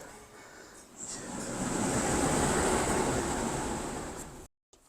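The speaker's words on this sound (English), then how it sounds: "it's a tide chamber." Waves surging inside a rocky tide chamber on the coast near Sagres and Aljezur, Portugal, a broad echoing roar that swells after the first second and holds steady, then cuts off abruptly near the end.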